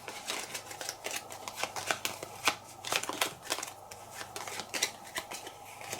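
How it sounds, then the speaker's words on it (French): Playing cards are drawn from a deck and handled on a table during a solo tabletop card game, giving crisp, close papery slides and flicks in an irregular run of quick strokes. "Je pioche 4 cartes"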